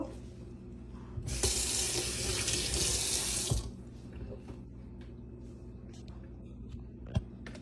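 Drumstick (moringa) leaves rinsed under a running kitchen tap, a steady broadband gush of water lasting about two seconds, then stopping to quiet handling noises and a faint knock.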